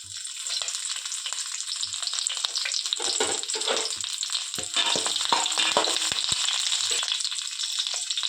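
Whole spices and curry leaves sizzle in hot oil in a pan for a village-style curry, a loud, bright crackling hiss with sharp bursts of spattering and occasional stirring knocks.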